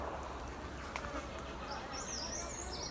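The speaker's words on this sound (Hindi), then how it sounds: "बैकग्राउंड में आपने साथ साथ चिड़ियों का म्यूज़िक, चिरपिंग भी सुन रहे होंगे।" Birds chirp and trill faintly in the background over a constant buzzing, insect-like drone filling the outdoor air of a village plum orchard near Abbottabad.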